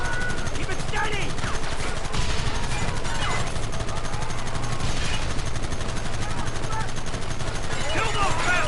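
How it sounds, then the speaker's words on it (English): Gunfire in a Red Dead Redemption shootout, with loud, dense volleys of rifle and pistol shots cracking continuously beneath shouting voices. "They're hiding behind the rock! Gun them down!"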